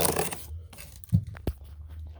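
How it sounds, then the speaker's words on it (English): A box knife slices through packing tape on an HP Omen gaming laptop box, giving a short tearing rip followed by a couple of quieter scrapes and crackles, close and fairly soft. "let me get my box knife, cut, and cut right along here"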